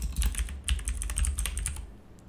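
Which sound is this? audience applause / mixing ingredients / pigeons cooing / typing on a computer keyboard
typing on a computer keyboard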